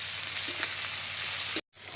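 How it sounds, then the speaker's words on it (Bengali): Chopped onion frying in oil with whole cumin seeds and dried red chillies while being stirred: a close, steady hiss of sizzling that cuts out abruptly for a moment near the end, then resumes. "পেঁয়াজটাকে নেড়ে চেড়ে একটু ভেজে নিচ্ছি"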